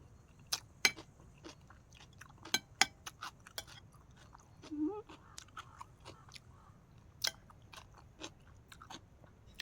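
Close, crisp chewing and crunching of Isan sausage with cucumber salad, with irregular bites and clicks over quiet background ambience.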